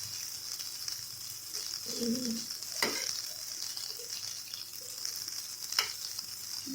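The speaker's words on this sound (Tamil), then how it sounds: "அப்படியே பரட்டியோட ட்ரை பண்ணுங்கள்." Elephant foot yam fries and is tossed in a pan, a steady close sizzle with occasional scraping stirs, while a pigeon or dove coos faintly in the background.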